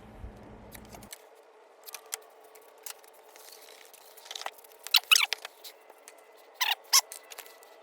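Scissors snip through a patch of snare drum wrap on a vintage Japanese-made stencil kit snare, a few quiet scattered cuts followed by sharper, louder clipped snips near the end, close up with no talking.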